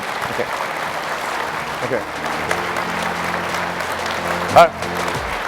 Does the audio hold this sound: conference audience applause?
yes